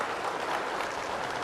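An audience in a seminar hall claps together, a dense, steady burst of applause throughout.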